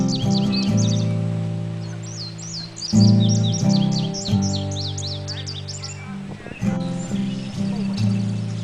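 A warbler sings rapid high chirping phrases outdoors, clear and fairly close, while a loud steady low drone runs underneath with a few sharp knocks.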